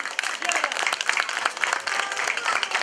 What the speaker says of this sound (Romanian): vă invit să o primiți cu aplauze